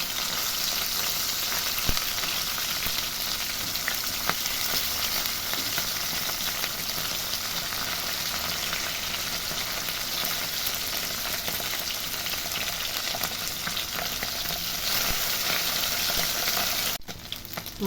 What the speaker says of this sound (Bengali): তেল গরম হয়ে গেছে। এবার আমি মাছগুলোকে ছেড়ে দিচ্ছি।